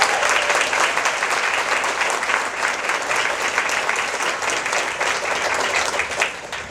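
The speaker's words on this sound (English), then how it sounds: "Can I please get a round of applause for my sister-in-law, Lisa" An audience applauds at a ladies' luncheon, a dense, steady burst of many hands clapping that holds at full strength for several seconds and stays close and loud throughout.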